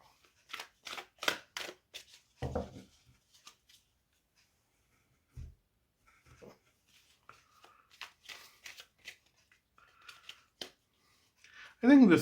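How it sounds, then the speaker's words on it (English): A deck of tarot cards is shuffled in short crisp bursts of riffling and flicking, close and fairly quiet, broken by pauses and a soft thump or two. "let's shuffle all the cards in front of me to start your reading"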